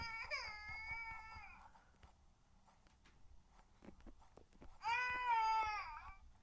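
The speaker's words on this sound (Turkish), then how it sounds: "bebek ağlıyor" A baby in the video game The Baby in Yellow cries in two bursts of wavering, high-pitched wails separated by a quiet stretch with soft thumps and taps.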